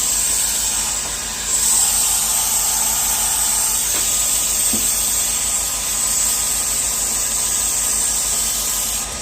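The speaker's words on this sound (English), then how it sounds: "blowing it out with whatever air tool you have. She took over my airbrush." An airbrush blows a steady hiss of air across alcohol ink and rubbing alcohol on a painting surface, continuous and fairly loud, with a faint knock or two under the airflow.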